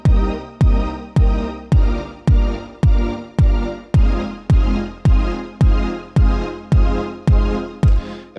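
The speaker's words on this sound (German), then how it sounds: "Und was du jetzt hörst, ist schon so eine Art Pumpen." A synth pad pulses in a steady, even rhythm from a tremolo effect, its volume swelling and cutting off about fourteen times in a regular pumping pattern.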